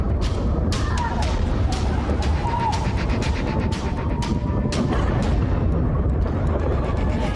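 Cluster bomb explosions over a wide area, a dense string of cracking blasts and pops layered on a continuous heavy rumble, with a voice talking underneath.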